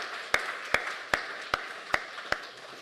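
A church congregation at a Sunday service claps in slow unison, six evenly spaced sharp beats over a steady wash of quieter clapping.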